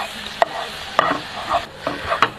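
Coca-Cola reduced to a thick, tar-like syrup bubbles in a non-stick pan while a utensil scrapes and stirs it, giving soft sizzling with four or five sharp scraping clicks close by.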